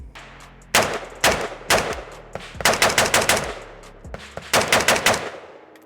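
An AK-style rifle fitted with a flash hider fires loud outdoor bursts of rapid shots, several strings of four to six reports with short pauses between them, each crack ringing out sharply.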